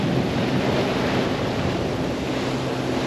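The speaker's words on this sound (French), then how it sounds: "On a un bon petit vent aujourd'hui" Wind at sea aboard a sailboat cruising the coast from Orkney toward Inverness, a constant broadband roar of gusting air buffeting the microphone over rushing water, steady and loud with no pause.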